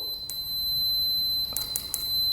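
A few short, high electronic beeps from a multimeter continuity test on a Honda dirt bike's wiring, one early and a cluster of three near the end, over a steady high-pitched whine and faint background hiss.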